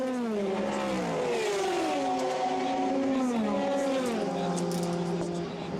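Le Mans prototype race cars roaring past at the 24 Hours of Le Mans, a loud continuous engine drone with rising and falling pitch sweeps as cars accelerate and pass, sustained throughout.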